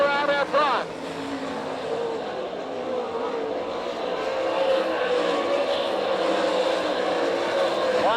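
Sprint cars roar around a dirt track at an All Stars vs NCRA race in Tulsa, Oklahoma, a loud continuous engine drone that swells as cars pass, under a race announcer's commentary.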